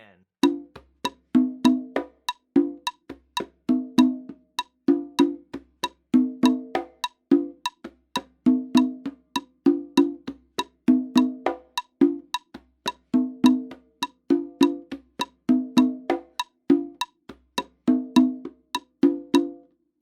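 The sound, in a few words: congas played in Brazilian rhythm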